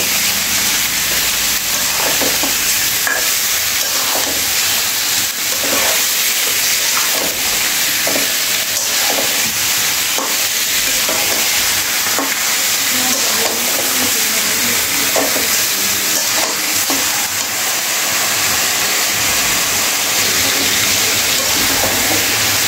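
Chicken and onions frying in a pan for a chicken kosha curry, a loud steady sizzle and hiss with repeated scraping stirs close up and no talking.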